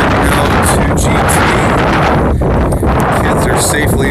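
Strong wind buffets the microphone outdoors where a Hilleberg Nallo 2 GT tent is being pitched, a loud continuous roaring rush with gusting surges throughout.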